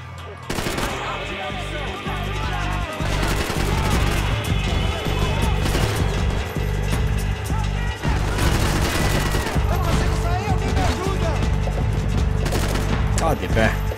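Rapid bursts of automatic gunfire in the video game Max Payne 3, loud and continuous with dense volleys and crashes, under occasional speech.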